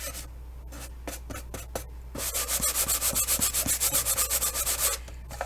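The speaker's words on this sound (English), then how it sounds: "I will take my sanding block and I'll just kind of sand over this just to get rid of that roughness." A sanding block rubs over balsa wood, first in scattered single strokes and then in a fast, even run of rhythmic back-and-forth scrapes, close and fairly quiet, with no talking.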